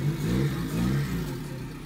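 Race car engine revving hard for a burnout, a steady loud low growl that swells and dips over two seconds, close by with no talk over it.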